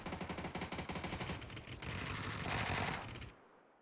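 Close bursts of automatic gunfire in PUBG, first as a rapid rattling string of shots and then as a dense, louder continuous barrage that cuts off abruptly, with no talking.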